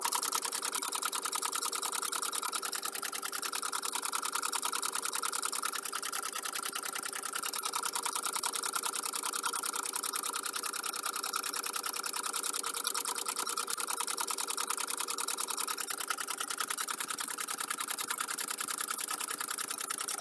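Sewing machine stitching steadily at about 600 stitches a minute, a fast, even mechanical whir-and-tap that runs unbroken and close by for the whole stretch.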